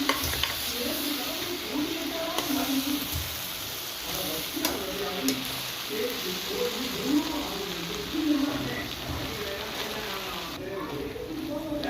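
A large batch of okra with chili powder is stirred in a pan, producing repeated scraping strokes over a continuous sizzle, close and moderately loud, with light clinks scattered throughout.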